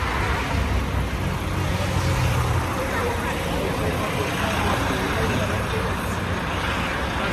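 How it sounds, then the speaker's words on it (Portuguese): Road noise from a bus travelling in a convoy of caravan buses, a steady, loud engine and tyre rumble with wind throughout, with no clear change in pitch. "aqui é o outro ônibus que veio em comboio com a gente"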